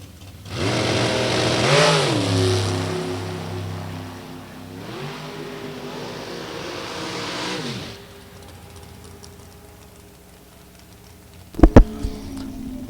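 Super Comp drag racing cars launching in a semifinal round at a drag strip, engines screaming loudly and rising in pitch for several seconds before fading, followed later by a couple of sharp bangs.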